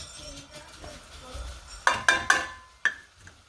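Flour being stirred into bubbling clarified butter in a pot for a brown gravy roux: a soft scraping, stirring rustle followed by several sharp utensil clinks against the pan, close and moderately loud, with no talking.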